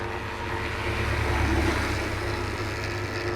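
A Kangen water ioniser machine runs with a steady low mechanical hum and whirr, constant and close, swelling slightly in the middle; no talking.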